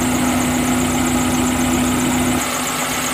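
A Suzuki Carry Futura 1.5 injection engine idles to reach working temperature, a loud, close, steady hum that drops slightly in tone near the end.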